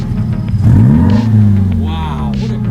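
Car with a new aftermarket exhaust at a car meet, revving up to a loud, close rumbling roar and then holding; people talk excitedly over it.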